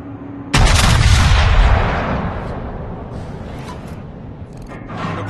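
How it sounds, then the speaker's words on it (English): Naval guns fire in a warship battle video game: a single huge booming blast erupts and rolls into a long, loud decaying rumble, with fainter distant thuds trailing behind. "Concentrate fire on the designated target."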